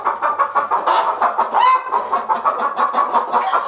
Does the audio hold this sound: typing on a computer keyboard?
no